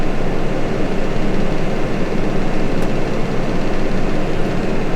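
A Case Maxxum 150 tractor runs with its PTO engaged at 1000 for a Bunning Lowlander 120 dung spreader, giving a loud, steady, dense engine roar close by with no breaks.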